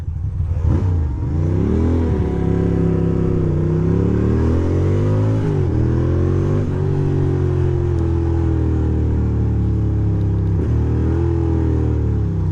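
A scooter engine revs steadily, rising and falling in pitch through repeated throttle blips and gear-like shifts, loud and close, alone with no talk.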